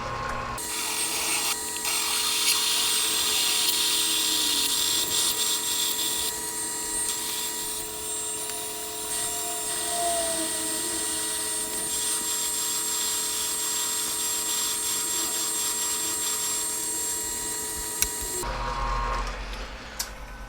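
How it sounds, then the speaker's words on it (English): A drill bores a metal bead roller die out to 9/16 inch, producing a continuous close grinding whine with steady machine hum for about eighteen seconds before it stops. "Alright, so we got it drilled to 9/16."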